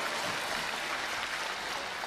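A crosstalk show audience applauds, producing a steady, dense wash of clapping that fills the space with no voices over it.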